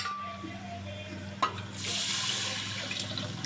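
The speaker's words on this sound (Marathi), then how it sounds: "आता ह्याच्यामध्ये आपण लागेल तसं पाणी ॲड करायचं" Water pours steadily from a tap into a pot of dal being prepared for varan phal, a soft continuous rush that begins partway through after a small clink and carries on at moderate volume.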